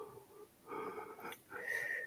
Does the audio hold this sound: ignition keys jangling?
no